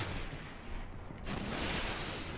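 A grenade goes off in a Destiny Crucible multiplayer match, a muffled blast followed by a sustained loud rumbling roar, with no talk over it.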